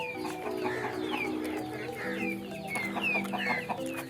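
Several hens clucking close by in a family yard, a continuous chatter of soft rising and falling calls overlapping one another at moderate volume.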